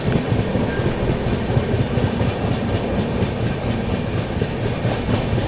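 Steady rumble and rhythmic clickety-clack of the 12264 Nizamuddin–Pune AC Duronto Express running through Mathura Junction without stopping, heard from on board, loud and continuous with no talk.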